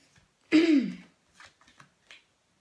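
A quick riffle of tarot cards, sharp and close, is followed by a few soft taps and shuffles in near silence.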